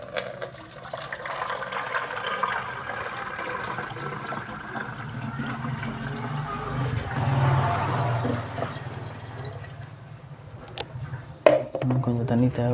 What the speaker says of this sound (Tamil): ஸோ இதில் நான் வந்து ஃபஸ்ட்டு வந்து தண்ணியை வந்து ஊற்றிக்கிறேன்.